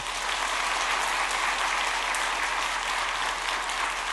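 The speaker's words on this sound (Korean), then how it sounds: "박수로 축복해 주십시오" A church congregation applauds after a baptism during a Sunday afternoon service, steady, full clapping from many hands filling the room for several seconds without a break.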